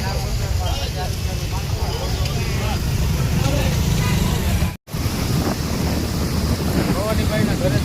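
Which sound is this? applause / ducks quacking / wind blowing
wind blowing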